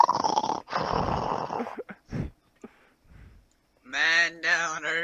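A person imitates loud snoring with the voice: rough, throaty snore-like bursts, a few short snorts after them, then two longer harmonic snoring rasps near the end, close and loud.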